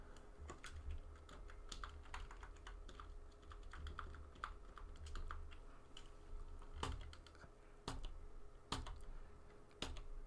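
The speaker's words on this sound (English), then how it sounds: "to do this, I'm just pressing Control G" Computer keyboard typing, a run of crisp, close key clicks in an irregular rhythm with occasional louder keystrokes, quiet overall and alone without any voices.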